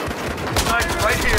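Rapid automatic gunfire in Battlefield Hardline rattles in a dense, continuous burst of close shots, loud and sustained across the whole moment with voices mixed in.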